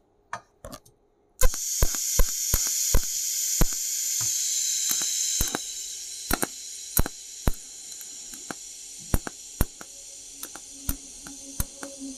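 An aluminium TIG welding arc hisses and crackles steadily, with sharp ticking clicks at intervals. The sound begins abruptly after a few short starts and stays close and loud.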